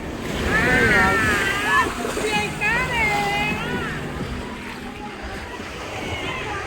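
Surf washes ashore at Peña Blanca Beach in Aguadilla, Puerto Rico, a steady broad rush of waves under wind, while people talk and call out over it.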